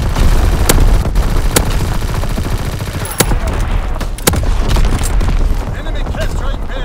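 An artillery barrage in the World War II shooter Call of Duty WWII fires as loud booming blasts and rapid gunfire, sustained and dense throughout, with a few sharp heavy impacts standing out.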